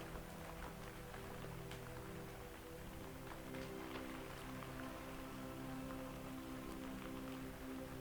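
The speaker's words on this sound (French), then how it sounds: "La pluie qui tombe." Steady rain patters softly on a surface, a continuous gentle hiss with scattered drop taps and a low hum beneath.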